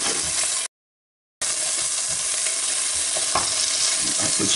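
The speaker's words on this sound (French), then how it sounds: "Voilà, mes champignons et mon oignon, c'est bon, ça a sué quelques secondes, ça suffit." Chopped onions and mushrooms sweat over low heat in a frying pan, making a continuous close sizzle with faint stirring scrapes, broken by a short silent gap.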